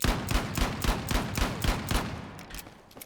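Rapid, evenly spaced pistol shots from the M357 in Battlefield 6, about eleven sharp reports in a steady rhythm, loud and close, then fading off near the end with no talking.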